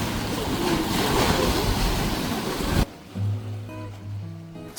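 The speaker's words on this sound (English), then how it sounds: "And the waves were pretty rough, making it tricky to swim back up." Rough sea waves off a Greek island roar and crash loudly and steadily for a few seconds, broad and close, then give way to a quieter low droning hum.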